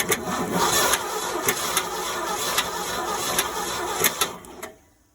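The starter on a 1971 Ford F600 truck cranks a stalled engine after a condenser swap, a fast rhythmic whirring with regular clicks, close and steady for about five seconds, then it cuts off without catching.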